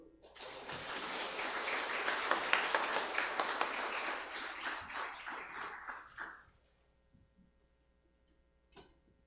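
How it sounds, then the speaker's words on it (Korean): Congregation clapping in a church during a Sunday morning service, a loud burst of many hands that holds for about six seconds, then quickly fades to near silence with a few stray claps. "우리 동익이 잘 갔다 오라고 우리 박수"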